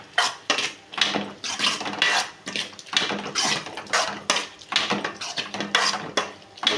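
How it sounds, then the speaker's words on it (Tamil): Spoon stirring masala into soya chunks gravy in a metal pan, quick repeated scraping and clinking strokes at close range with no talking. "சேர்த்துட்டு நல்லா நம்ம கிண்டிக்கலாம்."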